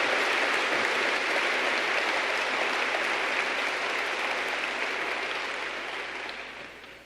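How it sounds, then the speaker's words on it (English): At a general session event, an audience gives a round of applause for the Gage family, a full, sustained wash of clapping that stays strong and then gradually tapers off near the end. "Let's give one more great round of applause to the Gage family"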